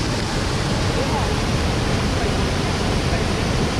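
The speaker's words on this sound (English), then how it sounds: "watch the water flowing over it" Steady rushing water pouring over stone at the Fonts d'Algar on the Costa Blanca, a dense, continuous wash of noise filling the clip with no voices.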